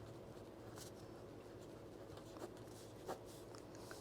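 Pen writing out a maths answer on paper, faint scratchy strokes in short bursts with a couple of small taps, quiet and close, no voices.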